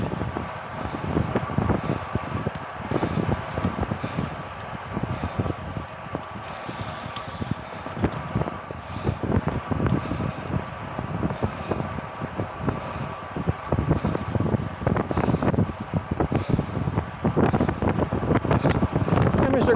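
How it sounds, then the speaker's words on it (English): Steady headwind buffets the microphone while cycling on a gravel bike, a loud continuous rumbling roar throughout with no clear talk. "In the headwind."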